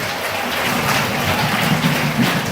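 An assembly audience applauding the women at an Emmaüs gathering, a dense, even wash of clapping from many hands that holds steady throughout without talk.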